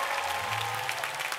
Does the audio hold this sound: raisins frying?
no